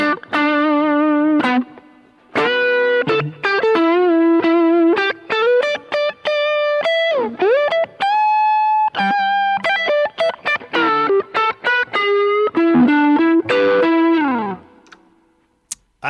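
An electric guitar on its neck pickup, driven through a Tube Screamer overdrive, plays a loud, singing lead of sustained notes, bends and quick runs with brief pauses, then fades out at the end.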